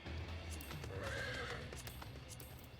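A horse mount in the video game Final Fantasy XIV gives a clear whinny in the middle, set against soft clip-clop hoofbeats and a low background hum, all fairly faint.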